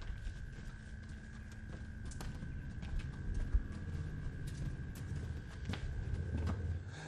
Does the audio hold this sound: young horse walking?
yes